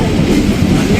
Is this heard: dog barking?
no